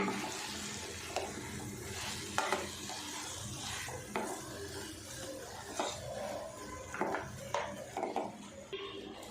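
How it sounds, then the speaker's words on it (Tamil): Soya chunks and potatoes being stirred with masala in a pan for a curry-style gravy, a steady scraping and mixing with a soft sizzle and utensil clinks throughout, close and continuous, no talking. "மீன் மேக்கரையும் உருளைக்கிழங்கையும் மசாலாவோட நல்லா மிக்ஸ் பண்ணி விட்டுருங்க"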